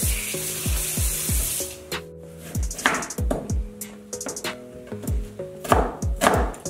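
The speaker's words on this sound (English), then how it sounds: "work on chopping up our tomatoes and our onions" Tomatoes and onions are chopped with a knife on a board in a home kitchen, giving a steady series of close, crisp knocks in quick bursts with no talking.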